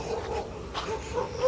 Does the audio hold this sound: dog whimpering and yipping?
yes